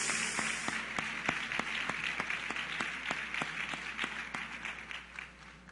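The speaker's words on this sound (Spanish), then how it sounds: "denle un aplauso fuerte al Rey de Reyes, Señor de señores." Applause from a church congregation during a Spanish-language service, a steady wash of many hands clapping at moderate distance with a few louder individual claps standing out, continuing evenly throughout.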